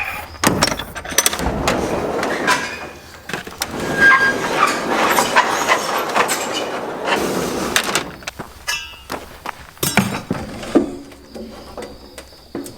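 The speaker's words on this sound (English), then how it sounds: "I guess we just better go ahead and open the doors." Large farm shed doors are hauled open, a run of metallic clangs, rattles and scraping bangs that comes in irregular bursts, close and fairly loud, with no talking.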